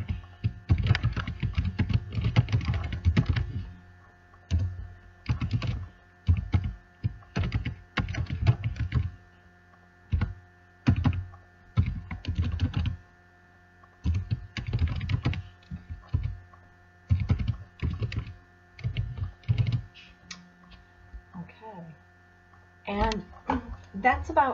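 Computer keyboard typing entering text into a Photoshop template, quick clustered bursts of keystrokes separated by short pauses over a faint steady hum, close and clear.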